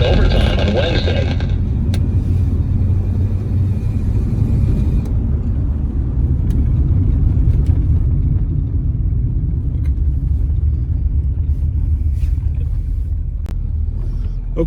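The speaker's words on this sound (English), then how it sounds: "Give the 327 V8 a little shakedown. This thing really pulls." A 1965 AMC Rambler Marlin with a 327 V8 on a road test, its engine holding a steady loud low rumble from inside the cabin, with faint clicks above.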